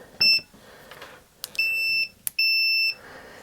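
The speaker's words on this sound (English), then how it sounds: "we should get a beep across each of these terminals" A multimeter set to continuity gives three sharp electronic beeps, each held for about half a second, close and clear against a quiet bench while probes touch terminals during a Macintosh SE repair.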